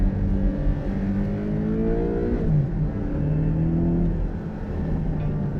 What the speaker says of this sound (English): So now as we're going down, I'll drop a few gears.